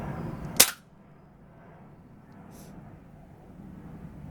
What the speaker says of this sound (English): I'm lined up and I'm going to take that shot.